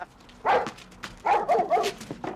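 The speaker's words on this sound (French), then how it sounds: "Oh, les toutous! Où les beaux toutous?" Dogs bark in several short, fairly close yaps spaced across a couple of seconds, loud and distinct with no talking.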